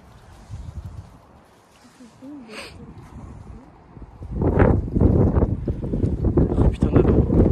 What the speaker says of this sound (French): Oh putain de vent.